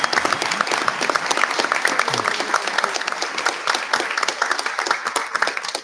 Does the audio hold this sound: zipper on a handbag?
no